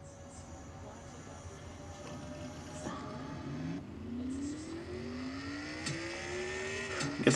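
A race car in the Castrol GTX Cup Series, a 1987 Buick model stock car, revs up again after hitting the wall, with engine pitch sweeping upward in several rising pulls over steady background crowd and track noise.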